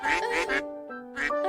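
A flock of ducks quacks loudly and close, in two dense bursts of overlapping calls with a brief lull between, set in a storm-darkened sky over a competition in ancient Greece.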